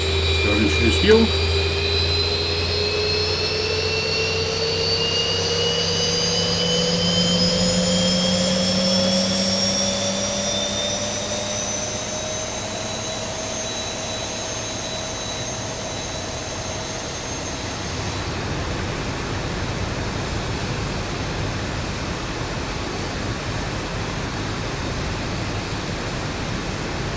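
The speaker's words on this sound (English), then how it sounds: "Getting a good engine 2 start." A Boeing 737-800 jet engine in the X-Plane 11 flight simulator spools up once fuel is introduced, a loud steady whine with tones rising over the first fifteen seconds before settling into a constant roar.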